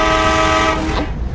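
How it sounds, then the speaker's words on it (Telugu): Train rushing through a tunnel in an Indian bike driving video game, a steady loud rumble with a sustained horn-like tone that fades out near the end. "ఈ టనల్లో స్పీడ్గా పోతున్నది కదా ట్రైన్"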